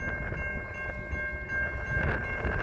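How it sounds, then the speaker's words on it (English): A slow CN freight train rumbles past nearby with a steady low roar, faint metallic squeals and a constant tonal hum, no voices. "Slow moving train on CN."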